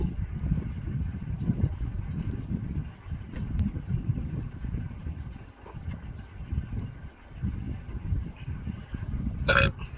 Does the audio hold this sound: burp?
yes